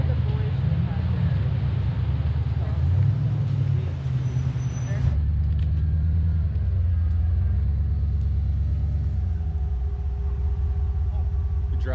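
A Jeep's engine rumbles steadily as it creeps down a brushy off-road trail, a continuous low drone with a shift in tone partway through, close inside the cab with people talking over it.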